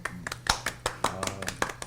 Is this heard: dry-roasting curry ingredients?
no